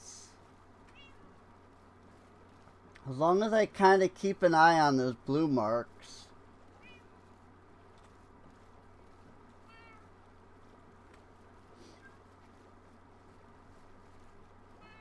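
Several cats meow in the video game Township Tales in a short, close burst of repeated cries lasting a few seconds, followed by quiet with a faint background hum and occasional talking.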